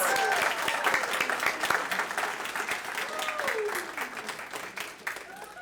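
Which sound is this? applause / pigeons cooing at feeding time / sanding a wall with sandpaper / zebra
applause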